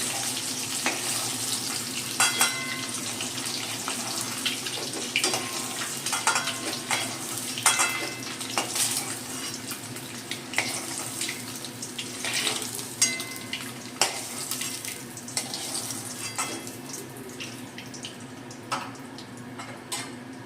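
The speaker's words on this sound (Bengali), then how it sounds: "ডিমটা আমি 2 মিনিটের জন্য ভেজে নেব" An egg fries in a hot pan for a hotel-style egg curry, crackling and spitting continuously with scattered sharp pops and occasional stirring sounds, close and moderately loud.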